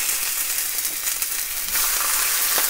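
Baby bok choy laid face down in hot oil with garlic and ginger fries with a loud, steady sizzle and crackle close to the pan, with no talking.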